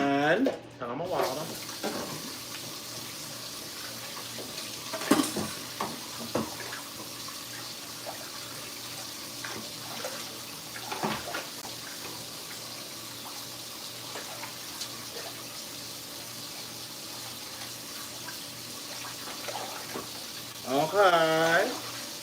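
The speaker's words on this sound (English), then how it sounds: "And turn on my water." Kitchen tap water runs into a sink in a steady, fairly loud stream for the whole stretch, with occasional clatters and knocks from dishes being washed and a voice speaking briefly near the end.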